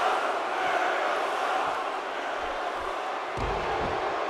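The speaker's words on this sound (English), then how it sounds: "this crowd is letting Jericho hear it" A virtual arena crowd in the WWE 2K17 wrestling game jeers at Chris Jericho, a steady dense roar of voices filling the whole stretch, moderately loud.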